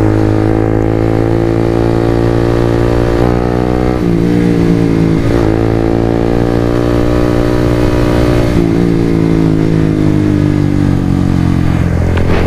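Suzuki GSX-R150 motorcycle riding on a tree-lined road toward Lembang, its engine droning loud and steady with repeated rising revs as gears shift, accompanied by continuous wind rush.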